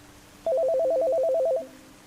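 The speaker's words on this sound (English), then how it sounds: "Then my phone rang." A phone rings in a quiet room at night, a clear electronic ringtone of rapid alternating beeps that sounds loud and close for about a second before cutting off, leaving a faint hum.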